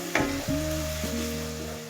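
Onion paste from two medium onions fries until brown for an egg tikka masala, a steady close sizzle with a sharp stir or clatter near the start and a brief bump midway, and nobody speaking.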